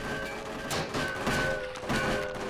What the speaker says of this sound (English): I love this grenade launcher.